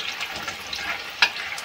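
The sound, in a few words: frying water lily fritters (shapla pakora) in oil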